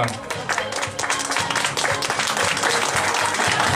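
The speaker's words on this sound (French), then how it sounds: "On les applaudit très fort." Audience applause at a neighbourhood evening event in 2013, a loud, steady wash of clapping throughout with some crowd voices mixed in.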